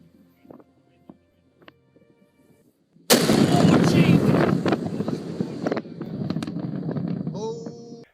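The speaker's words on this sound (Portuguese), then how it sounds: "vamos ouvir a explosão desse vulcão" A recorded volcano eruption explosion: quiet faint sounds, then a sudden massive blast with a sustained roaring rumble that slowly tapers over several seconds.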